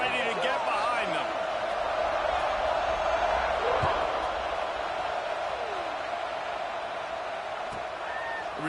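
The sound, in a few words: football stadium crowd before kickoff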